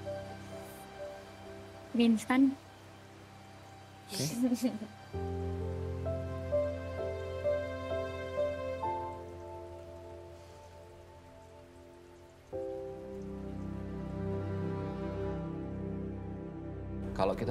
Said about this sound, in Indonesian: Hujan-hujan kayak gini.